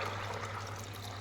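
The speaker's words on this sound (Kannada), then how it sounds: "ಇವಾಗ ನೀರು ಹಾಕೊಂಡಿದ್ದೀನಿ." Water runs steadily into a pressure cooker in a home kitchen, a quiet continuous pouring and trickling sound with a low steady hum underneath, no talking.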